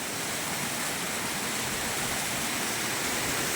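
Steady, dense roar of a natural waterfall crashing down from over 25 feet, near Kalasapadi about 10 km from Harur, loud and continuous with no other sounds over it.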